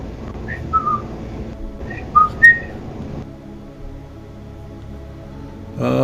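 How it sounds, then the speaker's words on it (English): A person whistles a few short, clear notes in two brief bursts, close and fairly soft against a quiet room hum, followed by silence and a faint noise at the end. "I'm just whistling."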